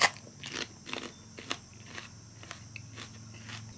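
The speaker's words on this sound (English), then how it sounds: "Every single bite was crunchy, like chewing on celery or something" Someone chews a crunchy, not fully ripe Purple Marconi pepper pod, producing a close series of crisp crunches about every half second over a quiet background.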